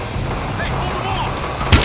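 Gunfire in Evidence, a realistic-graphics PC shooter set among civilians, a steady rumble of distant shots with one sharper, louder burst near the end; voices are heard over the din.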